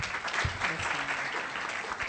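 Audience applause at a conference session in Palermo's Mondello Palace, a steady, moderately loud wash of many hands clapping for about two seconds, with faint background voices.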